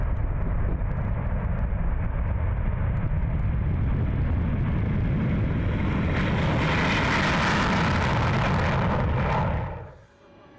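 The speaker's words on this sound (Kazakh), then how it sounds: "Жойғыш ұшақтар 500 метр жорғалағаннан кейін сағатына 350 шақырым жылдамдықта көкке көтеріледі." A Su-30SM fighter jet roars continuously as it takes off, a loud broadband engine blast that swells in intensity before cutting away sharply near the end.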